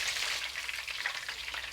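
Hot oil sizzles and crackles steadily as squid fries, a constant bright hiss with small popping bursts, no voices.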